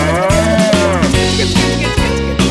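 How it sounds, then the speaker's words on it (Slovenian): A cow moos over the steady beat of a bouncy children's song, the low bellowing call blending into the music throughout. "Krava se jezi, muka na ves glas."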